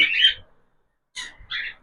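Cockatiels give a short burst of squawking, a pause, then two more harsh close calls in quick succession.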